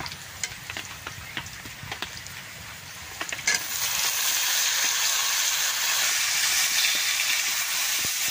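Dried fish tipped into frying onion and garlic in a pan, a faint sizzle with small clinks building into a loud, continuous close frying hiss that carries on steadily, with no talk.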